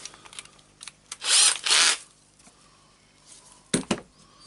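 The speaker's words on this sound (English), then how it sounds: "I need to unscrew the screws here. The small screws is a Torx 10." A screwdriver works Torx 10 screws out of a Berner BROS 150 orbital sander on a bench, giving a few short scraping turns and light clicks and knocks, close and quiet, with no talk.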